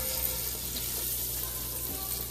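Pig tails fry in hot oil with a steady, dense sizzle that stays even and close throughout, alone with no voices.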